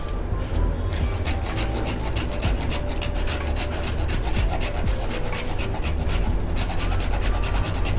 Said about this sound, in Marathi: आणि आता आपण यामध्ये जायफळ किसून घालूया